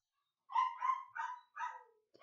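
An indoor pet dog barks loudly in four quick, close barks followed by a brief yip, with near silence around them.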